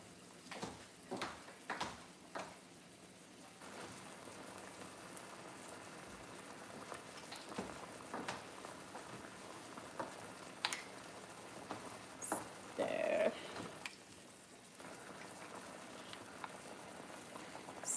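A thickened sauce bubbling and being stirred in a pot, thickened with cornstarch or flour, gives soft irregular wet patters and plops at moderate level over about eighteen seconds, with a denser burst near the end.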